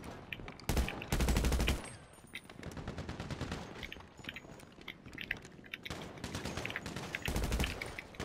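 Automatic gunfire in GTA Online during a heist shootout, repeated rapid bursts with sharp loud volleys that start and stop, close and dominant, no talking.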